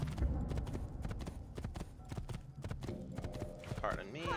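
Galloping horse hooves pound rapidly in Assassin's Creed II, a dense, continuous clatter close by, with voices speaking over the ride.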